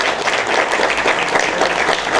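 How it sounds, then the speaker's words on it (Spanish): Loud, steady applause from a crowd fills the whole moment, many hands clapping at once without pause. "quiero un aplauso para ella"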